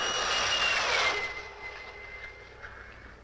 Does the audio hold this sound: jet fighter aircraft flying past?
yes